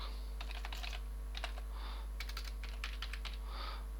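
A password being typed on a computer keyboard, with a close, steady run of light clicking keystrokes in small clusters over a faint electrical hum.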